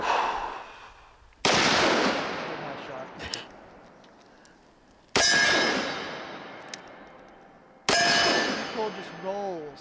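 Three loud, sharp gunshots from a Smith & Wesson Model 629 5-inch Classic revolver, each a sudden blast trailing into a long, echoing decay, spaced a few seconds apart.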